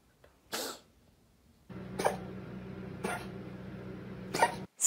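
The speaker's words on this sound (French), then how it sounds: "Ça, c'est un chat qui tousse." A cat coughs in a short series of harsh, hacking bursts, about four separate coughs close to the microphone with a low rumbling background between them.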